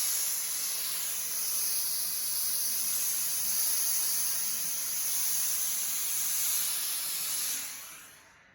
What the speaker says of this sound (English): Or you can turn this on, and then you have continuous steam.